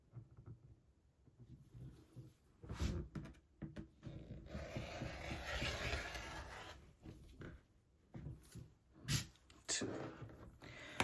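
A rotary or fabric cutter slices through layered quilting fabric into 2-inch strips, giving soft scraping and rubbing drags with a few sharp clicks and knocks. The sounds are faint and close by.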